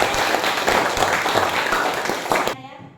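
A classroom audience applauds after a teacher's prompt during a lesson, a dense, loud burst of many hands clapping for about two and a half seconds before cutting off abruptly.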